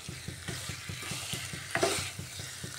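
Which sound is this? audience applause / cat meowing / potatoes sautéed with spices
potatoes sautéed with spices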